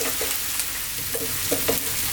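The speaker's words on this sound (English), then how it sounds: "Keep stirring." Diced potatoes fry with cumin and spice powders for a potato curry, giving a steady close sizzle broken by repeated scraping stirs of a spoon across the pan.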